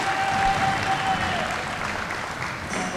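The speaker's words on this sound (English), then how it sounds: "Everybody give him a round of applause." A gym crowd at a high school basketball classic gives a round of applause, with dense, sustained clapping at an even level throughout and faint voices mixed in.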